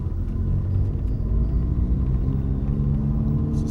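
Turbocharged 2013 Fiat 500 Abarth engine and exhaust holding a steady 2,000 RPM, a continuous low rumbling drone with even loudness throughout and no talking.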